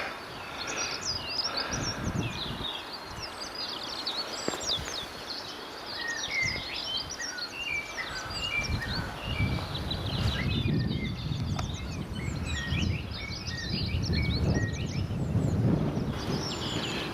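Many birds chirp and trill near a railway station, their bright calls scattered throughout, over a low rumble of a distant main road that swells toward the end.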